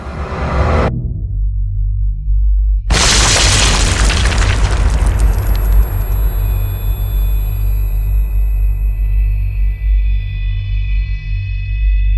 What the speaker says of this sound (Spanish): una segunda explosión hizo volar por los aires la losa del reactor y las paredes